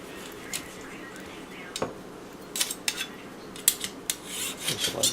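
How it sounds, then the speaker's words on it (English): Knife slicing cooked maple garlic pork into angled pieces on a board aboard a boat, a few short scraping cuts and light clinks of utensils, close and fairly quiet. "I'm just going to cut this on a nice angle, a couple of nice pieces"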